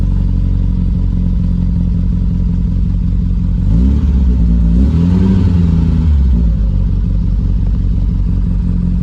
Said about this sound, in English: just let that warm up, and we'll be just fine. So choke's now closed, and you can just hear how sweetly and smoothly that she runs